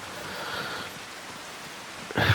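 Steady rain falling in a farming simulator game on a Louisiana map, a continuous even hiss of rainfall, with a louder sudden burst of noise right at the end.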